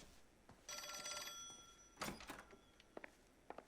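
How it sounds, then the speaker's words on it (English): An old-fashioned telephone bell rings in the 1940s crime video game L.A. Noire, one sustained metallic ring followed by a thunk and a few soft knocks, fairly quiet. "Phone's ringing."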